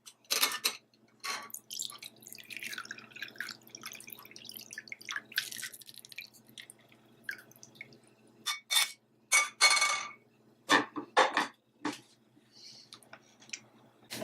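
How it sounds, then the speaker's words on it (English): Cooled clove and anise water is strained, giving a run of soft drips, trickles and small clinks of glass or metal. They come in irregular bursts, close and fairly quiet, with no talking. "Now, once the anise and clove water has been cooled, you're next going to strain."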